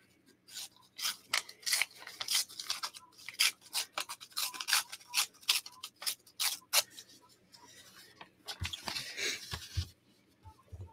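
Scissors cutting through paper layers, a close run of crisp snipping strokes in quick bursts, followed by a softer rustle and a few low thumps near the end, no talking.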